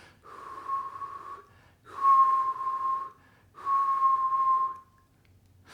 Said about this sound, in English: So go ahead and whistle if you can.